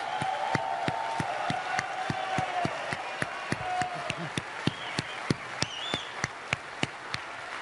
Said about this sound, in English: A big round of applause for our bikers.